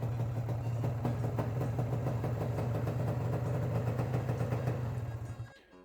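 A Honda NSR 125 motorcycle engine idles steadily up close with a low, even throb, then cuts out abruptly near the end; no one speaks.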